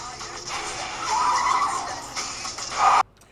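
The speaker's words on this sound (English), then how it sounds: "That car chase was whack." Tires skidding during a movie car chase, with a couple of squealing bursts over engine noise, the last one loud before an abrupt cut to near silence.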